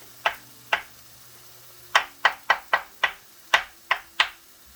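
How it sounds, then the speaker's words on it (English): Ten sharp knife chops through zucchini on a cutting board, a couple spaced out then a quick rhythmic run, close and clear with no talking. "And the rest of this I'm chopping up."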